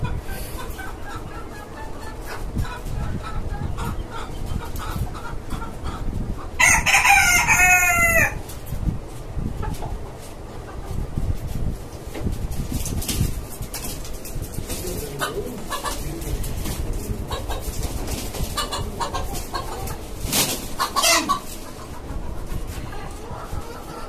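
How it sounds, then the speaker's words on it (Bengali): Native roosters on a rooftop poultry farm: a loud, close crow rings out, surrounded by ongoing clucking, cooing of pigeons and other bird chatter over a busy background. "আমার এখানে আরো একটা মোরগ আনা হয়েছে আজকে নতুন।"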